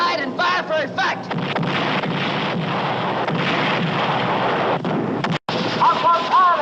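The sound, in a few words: artillery fire in the war movie To Hell and Back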